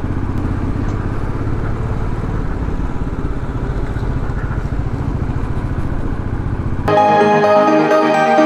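Motorcycle riding downhill on a steep, curving mountain road near Darjeeling, a continuous close engine drone with rhythmic low pulsing and wind rush, ending in a sudden louder, brighter burst near the end.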